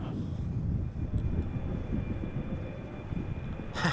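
Air Canada airliner arriving from Toronto, about to touch down at Amsterdam Schiphol Airport: a steady, loud, broad jet roar and rumble fills the whole stretch without a break.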